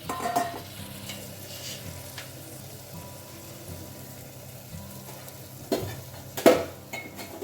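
Stuffing masala for Goan-style stuffed mackerel sizzles softly in a pan while being stirred, with occasional louder clinks and scrapes of a utensil against the pan, the loudest near the end.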